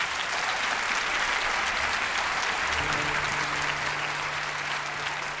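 Audience applause on a Spanish television show, dense and sustained clapping from a large crowd that stays loud throughout, with a low tone entering partway.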